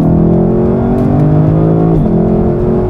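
A 2024 Lexus LC500 with a 10-speed transmission revs loudly and close by, its engine note holding a rich steady drone that dips briefly around the two-second mark, as a gear change would, before pulling on. No one speaks over it.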